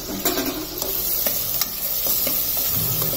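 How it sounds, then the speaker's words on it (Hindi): Onions fry toward golden brown in a pressure cooker for aloo gobhi masala, a loud, close sizzle with repeated scraping stirs of a spoon against the metal, with no talking. "अब हम डाल रहे हैं इसमें प्याज और इसको भी हम गोल्डन ब्राउन होने तक भूनेंगे"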